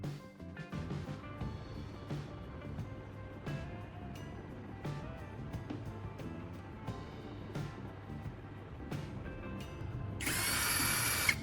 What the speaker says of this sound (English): Now, I'm drilling two small holes into the charger's plastic casing using a power drill.